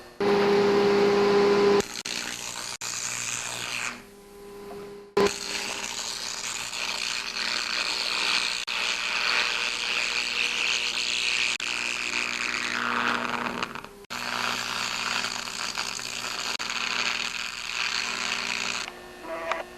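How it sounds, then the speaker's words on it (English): A carbon arc torch run from a 225 AC arc welder heats a snowblower auger part red hot, giving a steady, loud buzzing hum with an electrical drone that stops and restarts a few times. "I'm going to heat it red hot with my carbon arc torch"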